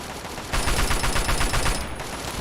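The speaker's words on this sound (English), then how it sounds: "Am I getting sniped? How is he sniping me through walls?" Sniper gunfire in the video game Fallout 3, heard as a dense, loud burst of rapid repeated shots that starts abruptly and continues steadily, with no voices over it.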